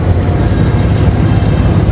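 A Ford Falcon Ranchero engine idles steadily after a high-idle fault at the carburetor linkage is fixed, a constant low rumble heard up close outdoors with wind buffeting the microphone throughout.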